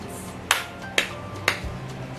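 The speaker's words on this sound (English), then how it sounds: "clapping my hands" Three sharp, evenly spaced hand claps, about half a second apart, close and clear over a quiet room while counting out syllables.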